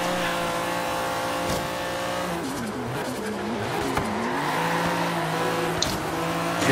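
Nissan GT-R race car cornering hard, engine droning loud and steady with shifting revs and brief tire noise, no voices.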